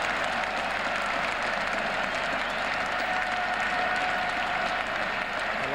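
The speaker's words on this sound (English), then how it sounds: "A lot of people clap" A crowd at Lord's during the 1981 Benson & Hedges Cup final between Somerset and Surrey applauds a catch with sustained, even clapping that fills the stands, slightly distant on an old broadcast recording.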